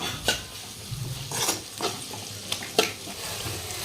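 Vegetables for street-style veg fried rice being stirred in a pan, with a soft sizzle and intermittent scraping clinks of the spatula against metal at an uneven rhythm, close and moderately quiet.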